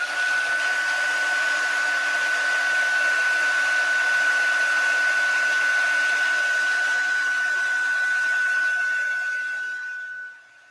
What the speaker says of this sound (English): I'm going to hit it with the heat tool real fast